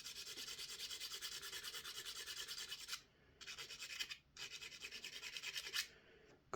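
A hand file rasps across a metal bolt part from a B&T GHM9 pistol-caliber carbine in quiet, close, rhythmic strokes, pausing a few times between passes.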